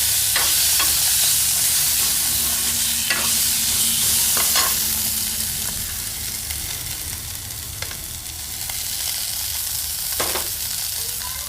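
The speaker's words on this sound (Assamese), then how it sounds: "2 মিনিটৰ কাৰণে ভাজি ল'ম" Oil sizzles steadily as small fish fry in a pan, with a few sharp clicks and scrapes from stirring cutting through the constant hiss.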